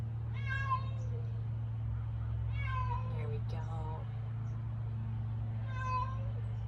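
A cat tangled on its leash meows in three drawn-out calls spaced a couple of seconds apart, fairly close, over a steady low hum, with a brief spoken phrase from a person in between.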